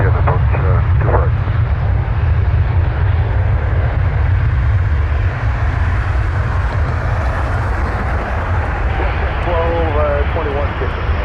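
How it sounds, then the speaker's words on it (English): Boeing 787 airliner touching down at Toronto Pearson, a heavy continuous jet rumble and roar under brief radio-style voices at the start and end. "787 is just touching down."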